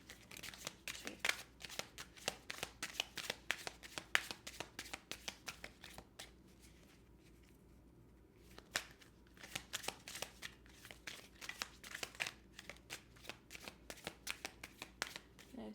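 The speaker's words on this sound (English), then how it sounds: "I'm going to do a couple more shuffles." Tarot cards are shuffled in quick riffling bursts, soft and close, with a brief pause in the middle before the shuffling starts again.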